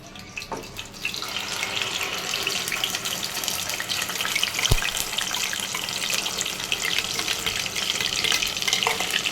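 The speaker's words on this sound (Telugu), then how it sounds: "ఈ పేస్ట్ని ఒక 5 నిమిషాలు పచ్చివాసన పోయేదాకా ఈ నూనెలో ఫ్రై చేసుకుందాం మంచిగా" A ground paste of tomato, onion and garlic fries in oil for a brinjal masala curry, crackling softly and steadily with faint stirring and watery spatter throughout, and a single sharp knock partway through.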